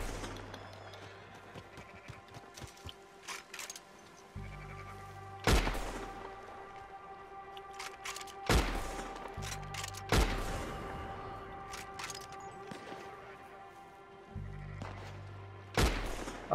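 Gunfire from the Western video game Red Dead Redemption 2, with several loud sharp shots and bursts spread over a steady ambient game soundscape with low rumbling, and no talk over the action.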